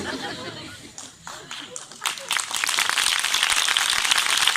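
A church congregation breaks into clapping, starting from faint murmuring and talk before swelling into dense, steady applause that fills the room and continues to the end.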